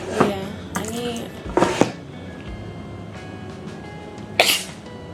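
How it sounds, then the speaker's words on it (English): A person sneezes several times indoors, sharp bursts close to the microphone, with a muffled cough-like catch in between and a softer final burst after a pause. "I'm freaking choked on my sneeze."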